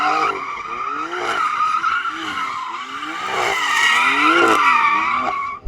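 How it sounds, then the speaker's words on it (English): A BMW spins its Michelin Pilot Sport Cup 2 tyres to warm them up, giving a sustained loud squeal over a revving engine that rises and falls for several seconds, with no talk. "I have to warm up the tyres a little bit first"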